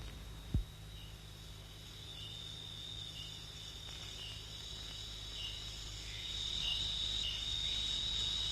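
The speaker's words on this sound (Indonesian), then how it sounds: "hanya terdengar desing nyamuk dan suara jangkrik yang berdendang" Crickets in a Riau swamp forest in Indonesia, a steady high chirping drone that grows a little louder toward the end, with one brief low thump near the start.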